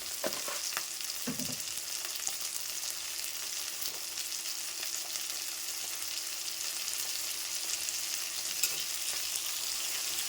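Chickpea greens fry in a pan with salt and turmeric, a steady close sizzle lasting throughout, with a few brief stirring scrapes early on and no talking.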